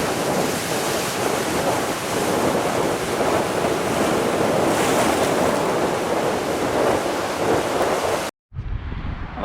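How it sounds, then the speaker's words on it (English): Heavy sea waves break continuously into a bay at San Agustin, a loud, dense roar of surf mixed with wind buffeting the microphone, ending abruptly before a quieter tail. "The sea is really picking up, waves are getting bigger"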